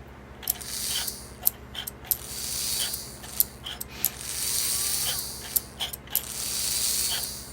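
An American Flyer 300 toy train's reverser mechanism clicking and ratcheting as its pawl turns the drum, a series of sharp mechanical clicks over a steady low motor hum, close and moderately loud with no talking.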